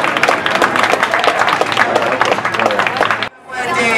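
Live comedy-club audience at Deep Ellum applauding steadily for about three seconds, dense and close, before the clapping cuts off abruptly into a quieter tail.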